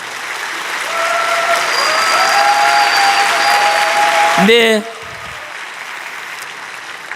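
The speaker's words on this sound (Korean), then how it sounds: "여러분 박수 한번 쳐주십시오." A church congregation claps in sustained applause for a visiting missionary, with a soft sustained musical tone underneath; the applause stops abruptly and someone says a brief word.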